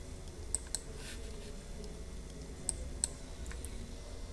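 Mouse clicks on a computer while using GeoGebra's on-screen keyboard: four or five sharp, light taps spread irregularly, two close together near the start and two more later, heard alone over a low steady room hum.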